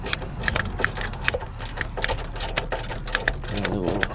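Bolts on a Honda's battery area being tightened with a ratchet on a long 1/4 inch extension, giving rapid, steady clicking ticks throughout, close and moderately loud, with faint speech underneath.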